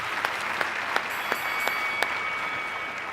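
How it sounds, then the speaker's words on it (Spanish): Steady applause from a debate audience, a dense wash of clapping with a few sharper claps standing out at regular intervals. "Bravo, un aplauso."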